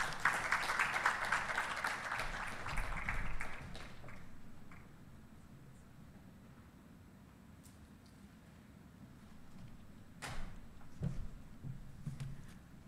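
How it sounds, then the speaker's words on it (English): Audience applause at a youth environmental consultation event in Barbados, a brief burst of clapping at the start that fades within a few seconds, followed by quiet room noise and scattered thumps. "could you please give us another round of applause for the Minister of Environment, Honorable Adrian Ford"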